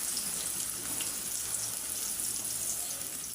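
Chopped onions fry in oil in a pan for a boal fish curry, giving a dense, even sizzle that holds steady throughout with no pauses.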